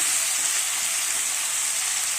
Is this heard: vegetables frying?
yes